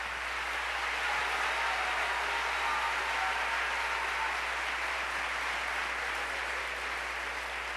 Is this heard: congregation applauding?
yes